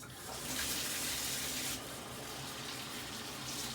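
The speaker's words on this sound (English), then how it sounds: "I'm going to go ahead and turn the water on." Water runs from a tap in a steady, hissing stream, close by and continuous, with no voices.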